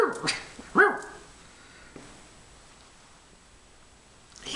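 A dog gives a couple of sharp barks up close, the loudest near the start, then quiet room tone follows with a faint yelp at the end.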